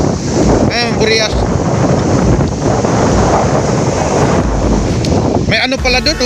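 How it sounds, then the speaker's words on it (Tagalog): Strong sea waves crash and surge near Burias as wind roars steadily across the microphone aboard a boat, loud and continuous, with people speaking briefly at the start and end. "Grabe lakas ng alon, no."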